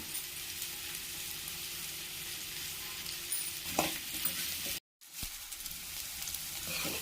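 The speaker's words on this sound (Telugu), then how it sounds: "ఆయిల్ వేడెక్కిన తర్వాత ఉల్లిపాయలు వేసుకున్నాను ఉల్లిపాయలు బాగా ఫ్రై అవ్వాలండి" Onions fry in hot oil for a chicken curry, giving a steady, close sizzle with stirring that runs throughout and cuts out for a brief moment before resuming.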